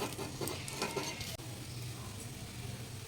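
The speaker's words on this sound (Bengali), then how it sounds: "আর আমি এইভাবেই সবগুলো ভেজে নেব।" Thin vegetable chakli frying in oil in a pan, giving a steady, soft, even sizzle that carries on throughout, with a brief stir or scrape near the start.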